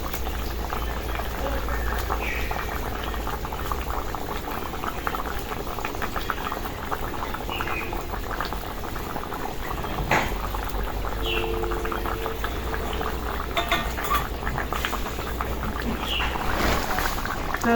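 Taro and fish curry bubbling steadily in a pot on the stove, a continuous close simmering boil with soft popping bursts throughout, no talk over it.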